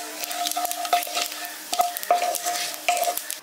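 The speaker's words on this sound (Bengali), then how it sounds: "এটাকে হালকা ভেজে নিচ্ছি একটু।" A dried red chili and half a teaspoon of five-spice (panch phoron) tempering in hot oil, with steady frying sizzle and several sharp stirring scrapes against the pan, up close and without speech.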